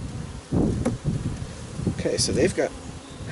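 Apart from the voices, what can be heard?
bees buzzing around a hive box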